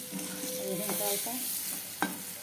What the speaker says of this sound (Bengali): এই যে আলুটা ভাজতেছে